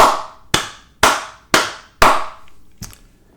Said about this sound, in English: Ladies and gentlemen, we must clap for this lady right here.